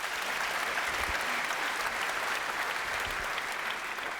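Sustained applause from the audience at the Munk Debate on capitalism, a fairly soft, even rush of many hands clapping together from a distance, steady from start to finish.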